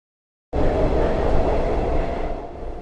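Paris metro train heard from inside, a loud steady rumble and rattle that starts abruptly after half a second of silence and carries on throughout.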